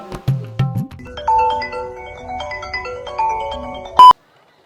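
A mobile phone rings for an incoming call, a bright melodic ringtone of rising and falling tones played once through before cutting off abruptly, preceded by a couple of short low thumps.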